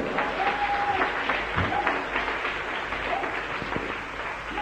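A church congregation applauding to acclaim Jesus, a steady wash of many hands clapping at moderate distance, with faint voices and a brief sung tone woven through.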